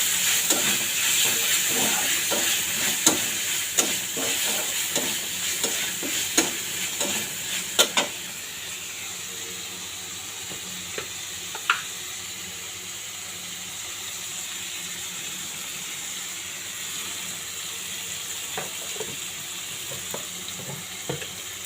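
A ginger, garlic and cumin paste fries over low heat with a soft, constant sizzle, while a utensil scrapes and taps the pan in a steady rhythm early on, then stirring turns sparse and the sizzle carries on alone.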